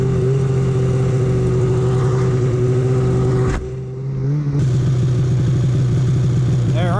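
A mountain snowmobile engine runs loud and close with a rough, buzzing tone, holding revs, briefly dropping off, then climbing again.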